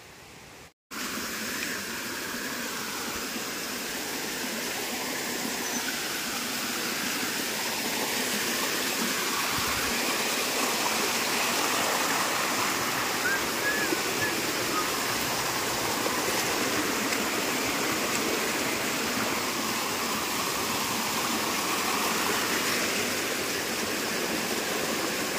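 A stream of water flowing near old public wells in a village, heard as a steady, unbroken rushing wash that holds at an even level for the whole stretch with no voices over it.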